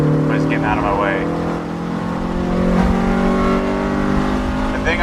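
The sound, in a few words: car engine intake induction noise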